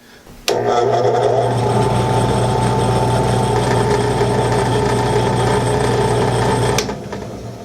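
A WEN 4210 drill press motor starts abruptly and runs with a steady, loud whine and hum for several seconds, then cuts off and winds down.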